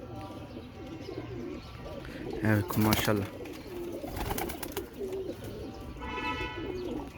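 Large teddy-breed pigeons coo in low, throaty bursts close by, with chirpy bird calls among them, while someone talks over the flock.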